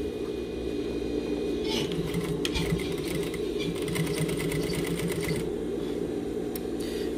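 A sewing machine steadily hums and stitches while a jeans zipper is sewn in, with a constant motor drone and a rapid needle ticking that picks up in the middle stretch.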